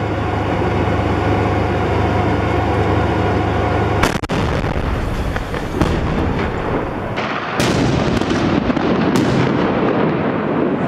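Heavy artillery from a 2S3 Akatsiya self-propelled howitzer booms out in Syria, with a loud blast partway through followed by more sharp bangs and rumbling echoes against constant background noise.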